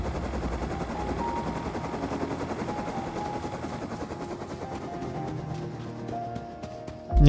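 Steady automatic gunfire in a video game, with a helicopter nearby: a fast, continuous rattle of shots over a droning rotor, held at a moderate distance and ending in a sudden louder hit.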